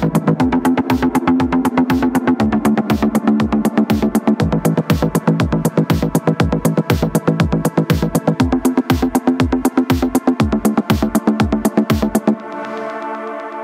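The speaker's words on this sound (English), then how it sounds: "a sequence sound like this is never going to run the show in a track like this." Synth sequence with DAW tape saturation: a fast, steady pulsing pattern of punchy plucked notes repeating in a tight rhythm, with shifting pitches over a dense saturated tone, ending in a brief sustained ringing tail.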